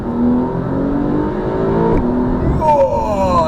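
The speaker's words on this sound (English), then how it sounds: "I'm going to press this button now and you'll hear the car." Porsche 911 Carrera S (992) engine revs hard under a performance boost, pitch climbing steadily through a gear then dropping at a shift before rising again, loud and close throughout.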